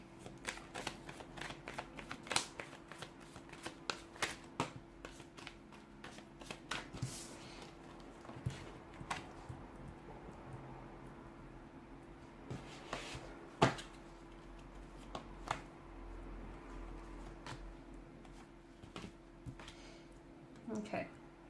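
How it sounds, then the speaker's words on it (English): Tarot cards shuffled in quick bursts of crisp riffling and tapping, with intermittent clicks over a low steady hum, fairly close. "let's give the cards a shuffle"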